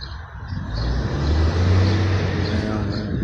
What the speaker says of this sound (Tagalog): Ingay din ng sasakyan,